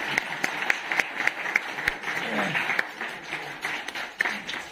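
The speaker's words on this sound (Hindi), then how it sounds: "प्लीज आप सभी लोग ऑडियंस में जोरदार तालियों से स्वागत करें।" Audience applause welcoming someone at an award event: sustained clapping from a room full of people, with sharper individual claps standing out and faint voices underneath.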